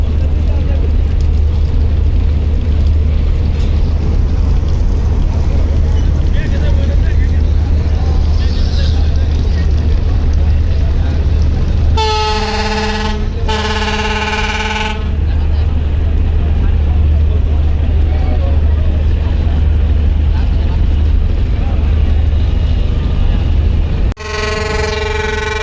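Large passenger launches manoeuvre on a river during a launch race, their engines thrumming in a deep continuous drone as one reverses; loud horn blasts cut through twice, with talk over the top.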